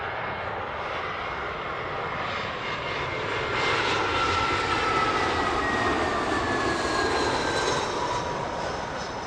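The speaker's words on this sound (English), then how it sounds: "First catch of the show there is the British Airways shuttle heading down from Edinburgh" A British Airways shuttle jet on its way from Edinburgh comes in to land at London Heathrow, its engines a steady, loud roar that builds midway and then holds with a thin whine, heard on its own.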